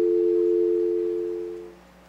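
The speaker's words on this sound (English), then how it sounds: "press on the coin hopper trigger so that the sensor is broken and you'll hear a dial tone" A modified Skype payphone gives a dial tone after its coin hopper trigger is pressed. The steady, clear electronic hum is close and loud, then fades away after about a second and a half.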